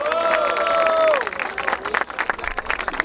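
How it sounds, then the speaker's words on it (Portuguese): Crowd applause and cheering at a Brazilian freestyle rap battle in Barueri, São Paulo, loud and dense throughout, with a voice shouting over it at the start. "Palmas, família, palmas pra essa batalha."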